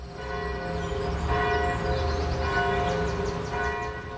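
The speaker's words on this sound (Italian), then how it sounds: "Il giorno successivo le campane accompagnarono l'incoronazione nella cattedrale di Notre Dame." Church bells at Notre Dame cathedral in Paris pealing for a coronation, several bells ringing together in a loud, sustained, overlapping wash of tones with no pauses and no voices.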